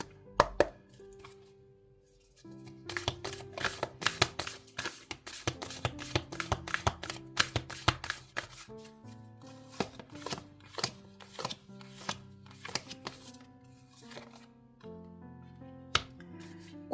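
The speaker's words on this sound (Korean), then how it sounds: "오라클 카드 볼게요." Oracle cards being shuffled and laid out during a tarot reading, giving a rapid run of close, crisp flicking and tapping card sounds in irregular bursts over soft background tones, with no talking.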